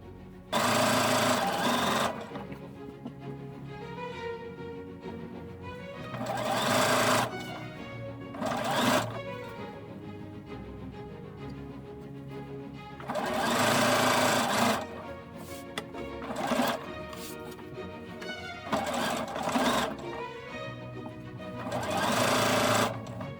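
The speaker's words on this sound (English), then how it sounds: "I'm going to sew on these side pieces first" A sewing machine stitches side border pieces onto a quilt made from vintage fabric scraps in loud, close bursts of rapid whirring, separated by short quieter pauses between seams.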